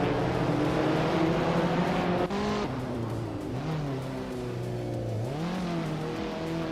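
A Mazda MX-5 Cup race car in a racing game revs continuously, its engine note climbing and falling through gear changes, with a brief dip partway through and a rising sweep near the end.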